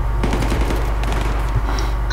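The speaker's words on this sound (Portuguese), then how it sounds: "Que tiro foi esse, Davi?" Rapid bursts of automatic gunfire in Battlefield 3 crackle in quick succession, loud and close, with a voice speaking briefly over the shots.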